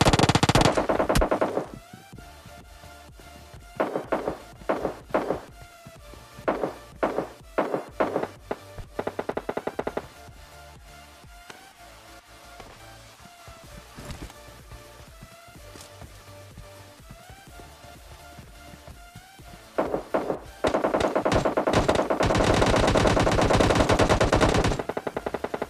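AKM and M4 rifles fire in PUBG Lite, loud rapid bursts of automatic gunfire in several clusters, then quieter single shots, ending with a long dense stretch of continuous close fire.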